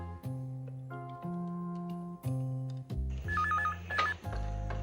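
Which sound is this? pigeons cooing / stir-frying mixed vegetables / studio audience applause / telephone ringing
telephone ringing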